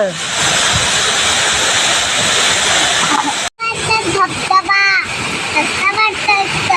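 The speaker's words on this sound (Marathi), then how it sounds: "धबधबा पांढरा शुभ्र" A white, foaming waterfall in Satara roars as a steady, loud broadband rush, with voices of visitors talking over it near the end.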